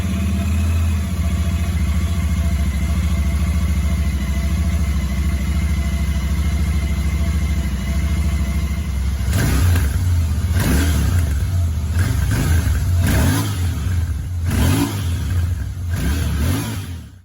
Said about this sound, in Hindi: तो गाइस, फाइनली अब हम बाइक की साउंड को टेस्ट करेंगे